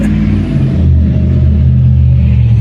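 A car engine runs close by with a steady low rumble that swells slightly partway through, loud and continuous with no voices.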